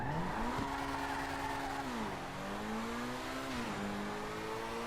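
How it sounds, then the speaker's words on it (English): A car launches straight off the line in GTA 5 with no burnout, its engine climbing in pitch through repeated gear shifts as it accelerates steadily, with a faint tire squeal under the roar and no voices. "just straight off the line"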